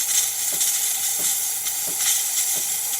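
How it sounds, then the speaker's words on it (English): A continuous loud hiss of steam jetting steadily from the steam wand of a DeLonghi Magnifica espresso machine, with faint periodic clicks or taps beneath it. "now the steam is good."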